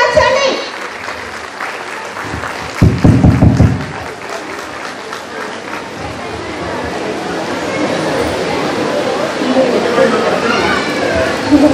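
Loud audience applause fills a hall at a women's empowerment gathering, a dense burst of clapping swelling and then sustained, with voices and crowd murmur mixed throughout.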